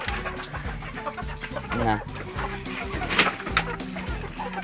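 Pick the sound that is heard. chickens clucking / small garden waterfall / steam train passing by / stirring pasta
chickens clucking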